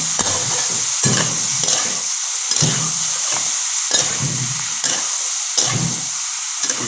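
Broiler chicken feet fry whole in a pan, with a loud nearby sizzle and rhythmic stirring strokes about once a second throughout.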